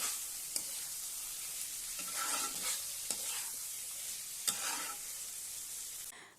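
Marinated prawns stir-fried with spice paste in a pan for chingri posto, a soft continuous sizzle broken by several sharp clinks and scrapes of a spatula, with no talking.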